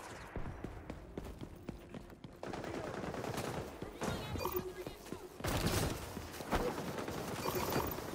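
Gun hip fire in the XDefiant video game during an Escort match, bursts of rapid automatic shots crackling at close range amid clattering mechanical game sounds, with louder stretches of firing toward the end.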